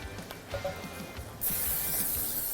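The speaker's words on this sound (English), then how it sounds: "Spray the inside of your pan there." After a few quiet clicks and handling noises, a can of cooking spray hisses into a pan in one steady spray for about a second.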